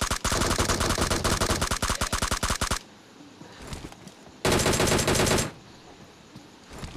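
Rapid machine-gun fire in a mobile shooter video game: a long, loud, continuous burst, a pause, then a second shorter burst close up.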